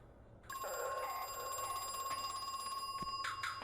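A telephone rings in the horror video game Crow Country, a bright electronic bell tone starting after a short quiet moment and repeating in steady bursts, clear and alone with no talk.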